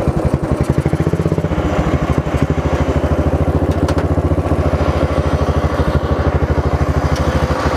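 A racing lawn mower engine fitted with a 28 mm Mikuni carburetor idles in third gear, a loud, steady, rapid chugging putter that stays close and unbroken throughout, with some mechanical clatter.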